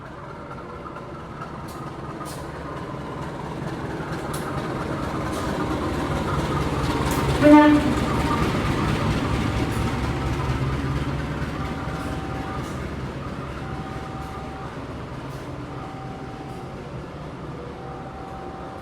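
The extra Kutojaya Selatan economy train rumbles steadily as it departs Rancaekek station, swelling around a brief horn blast midway, with a repeating station tone and faint talk in the background.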